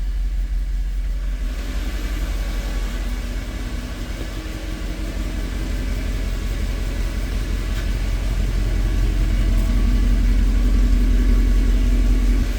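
A Mercedes E63 AMG with a known fault idles steadily while warming up, its deep continuous rumble close and loud, rising slightly toward the end with no voices.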